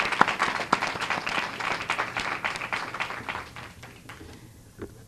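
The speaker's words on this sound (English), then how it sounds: "that does deserve a round of applause" A room full of people at a press conference applauds, a dense patter of clapping that fades gradually toward the end.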